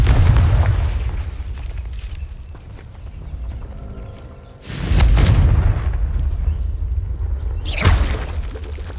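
Confringo blasting spells from a Harry Potter video game: two loud, close, booming explosions with a sharp crack and shattering debris, the first rumbling on for several seconds, set over a dull rumbling bed.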